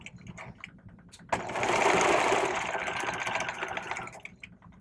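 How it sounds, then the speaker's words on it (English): A sewing machine backstitches a welt pocket onto a vest front, running in a steady close mechanical whir for about three seconds after a quiet start, then slowing and tapering off. "So you want to be extra careful when you backstitch that you don't go too far."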